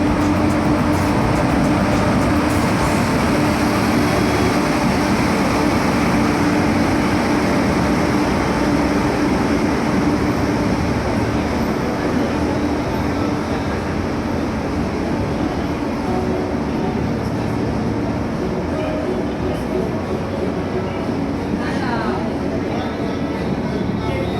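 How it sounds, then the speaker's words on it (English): A train arriving on the track makes a loud, continuous rumbling roar that fills the whole stretch with steady intensity, and voices can be heard faintly beneath the noise. "The train is coming and the only track there is here."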